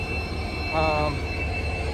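A WDP 4D diesel passenger locomotive rumbles steadily nearby, with a brief metallic squeal rising over the continuous engine and rail noise.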